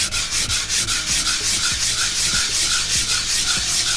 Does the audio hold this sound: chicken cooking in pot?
no